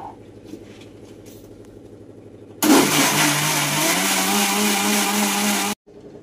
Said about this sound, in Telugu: మంచిగా పల్చగా మిక్సీ పట్టుకోవాలి